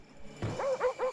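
Dog barking in a Black Ops video game match, several short yelping barks in quick succession following a burst of game noise, fairly faint.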